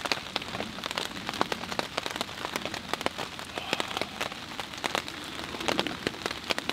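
Rain falls steadily during a rainy-season camp, a dense patter of drops striking surfaces with frequent sharp, close taps over a continuous soft hiss, with no talking.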